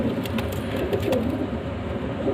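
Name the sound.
pigeons cooing, Rampuri male, Ferozpuri female and chick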